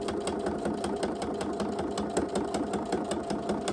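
A sewing machine runs steadily as it stitches through organza and stiff buckram for a pinch pleat curtain, its fast needle clatter and motor hum continuous and close throughout.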